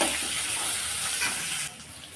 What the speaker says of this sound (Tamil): இது எல்லாத்தையும் சேர்த்து நல்லா வதக்கி விட்டுடலாம்